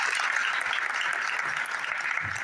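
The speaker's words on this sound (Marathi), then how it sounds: "या दोघांच्याही आत्मविश्वासासाठी एकदा जोरदार टाळ्या होत्या" Audience applause at a school children's drama festival, a dense, even wash of clapping sustained throughout, loud and close.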